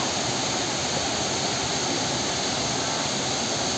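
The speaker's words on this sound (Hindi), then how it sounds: "सामने वाटरफॉल दोस्तों देखिए" Corbett waterfall in the dense forest of Jim Corbett, a steady broad rushing roar of falling water, loud and unbroken, with no voices.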